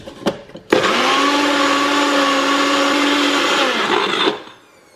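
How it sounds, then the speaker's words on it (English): A countertop blender whirs loud and close for about four seconds, blending a thick protein shake with coconut milk, starting after a couple of soft knocks and then cutting off abruptly. "And then that goes in the blender as well."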